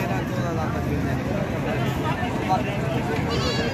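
Goats bleat at a busy livestock market in Dera Ghazi Khan, their calls mixed into a dense, continuous babble of crowd chatter and people talking nearby.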